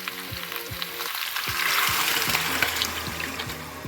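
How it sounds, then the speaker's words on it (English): Broth pours into a pot over a cooked tomato base, a steady splashing, sizzling wash up close with a few clinks of a utensil against the pot. "I'm going to add my broth."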